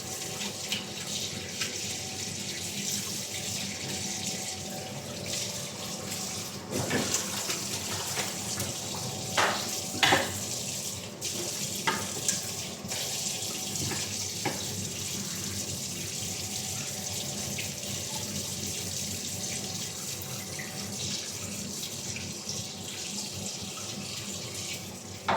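A tap runs steadily into a sink, a continuous close hiss and splash with a few clinks and small knocks scattered through it, and no one speaks.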